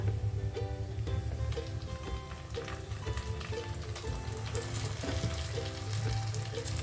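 Ground spinach paste hits sizzling ginger and garlic in a pan for palak paneer, a steady hiss and crackle running throughout with light rhythmic tones in the background.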